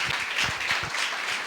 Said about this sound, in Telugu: చప్పట్లు కొడదాం ఒకసారి అందరం